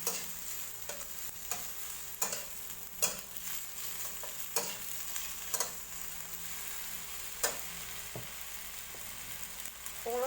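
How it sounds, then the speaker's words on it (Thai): Fresh shiitake mushrooms and garlic stir-fry in a hot pan with a steady sizzle, while a spatula scrapes and knocks against the metal at irregular intervals, close and clear. "นั่นนะเห็ดหอมนี่ผัดกับกระเทียมนะ"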